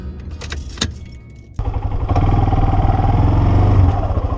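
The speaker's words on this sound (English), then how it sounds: "Next clip you're gonna see is me on the four-wheeler." A four-wheeler ATV starts up after a brief clatter and settles into a loud, close, steady engine idle with a throbbing putter, with no talking over it.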